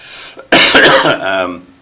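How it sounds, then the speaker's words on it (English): A single harsh, dry cough bursts out close and loud at a parks commission meeting, followed by a brief throat-clearing rasp. "I've got a dry cough tonight"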